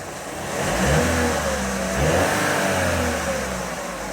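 A car engine, running on the crank cylinder, revs up twice in smooth rising swells, its mid-pitched drone climbing and falling back close by, with no talking over it.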